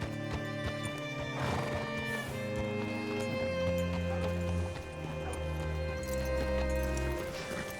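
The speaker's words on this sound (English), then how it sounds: "Hitch your horse up here." Horse hooves clip-clop steadily with an occasional whinny in the Red Dead Redemption 2 video game, sounding close and fairly loud over a continuous bed of game music.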